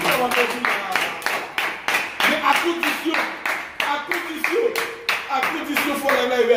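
A group claps in a regular rhythmic beat, close and loud, with sharp evenly spaced hand claps running throughout while voices and tones sound underneath at a Haitian music gathering.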